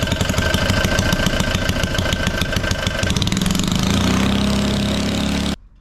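The original engine of a 1960s Trojan mini tractor runs steadily with a rumbling, low mechanical chug, its tone shifting slightly midway, then cuts off abruptly near the end.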